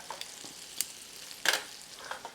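Shrimp frying in a skillet for shrimp and grits, a faint crackling sizzle with scattered sharp pops and one louder burst of spatter midway, no talk.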